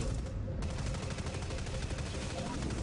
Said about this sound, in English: Someone's shooting me, so.